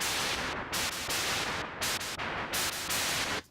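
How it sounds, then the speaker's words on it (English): White noise with delay added as a layer in a remake of the instrumental for Taylor Swift's "I Did Something Bad": loud bursts of hiss cut off sharply and repeat in a quick rhythmic pattern, each echo trailing into the next. "So I actually just had some white noise and put a little bit of delay on it"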